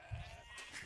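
A sheep in Age of Empires 2: Definitive Edition gives a single short bleat, brief and fairly faint over quiet game background.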